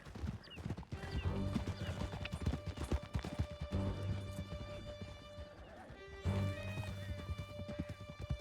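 Horses gallop in Red Dead Redemption 2, a steady rolling clip-clop of hooves with occasional whinnies over game music and rumble, loud and continuous with a brief dip before a surge near the end.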